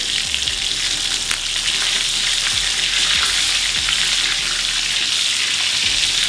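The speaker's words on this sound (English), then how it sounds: "you continue spooning the butter on top of the steak" A steak sizzles loudly and steadily in a cast iron skillet while butter with thyme, rosemary and crushed garlic is spooned over it. The hiss is dense and continuous, with faint low knocks under it and no talking.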